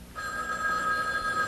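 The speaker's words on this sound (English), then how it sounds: "It's the noise of the telephone ringing." A telephone bell rings steadily and close by, a bright sustained electronic ring starting abruptly and continuing without pause.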